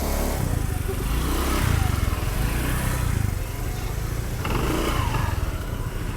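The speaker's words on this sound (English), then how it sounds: "Here's another motorcycle." Motorcycle engines rumble steadily nearby on a street in Thailand, with revving swells and a passing bike growing louder and fading, over busy street noise.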